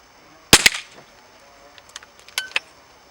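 A Beeman P17 air pistol fires a pellet with one sharp, loud crack, followed by fainter small clicks and knocks as the pistol is handled.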